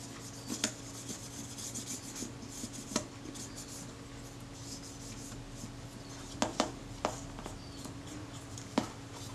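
Metal polish rubbed onto a copper camera part, heard as intermittent light scraping and rasping strokes with a few sharper clinks, all over a steady low hum.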